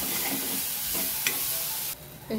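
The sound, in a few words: stirring frying moth beans in a pan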